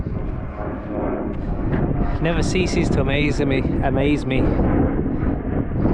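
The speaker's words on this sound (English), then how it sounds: "When you see planes flying like that, it's crazy, right?" An airplane passes over open Yorkshire moorland near Ilkley, its steady, rumbling drone filling the background while someone talks over it close by.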